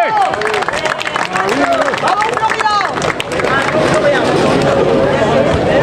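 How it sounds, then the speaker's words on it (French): Crowd at an outdoor vintage car presentation, with an Audi 100 among the vehicles, applauding steadily and loudly while voices chatter and shout through the clapping. "On l'applaudit, hein?"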